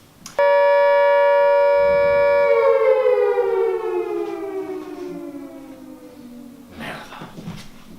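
A civil defense air raid siren holds a loud steady wail, then slowly winds down in pitch over several seconds, with faint voices and noise near the end.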